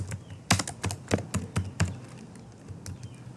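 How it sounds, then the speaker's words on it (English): Keystrokes on a computer keyboard while a name is entered into a Kobo Toolbox survey form, a short burst of crisp, uneven clicks at close range that tapers off, with no voice over it. "So for example, I type my name."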